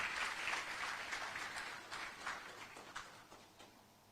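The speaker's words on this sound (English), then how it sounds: "We can welcome him with a clap." An audience applauds to welcome a speaker at a Kenyan event on the African Continental Free Trade Area. Many hands clap together, strongest at the start, then thin out and fade over a few seconds.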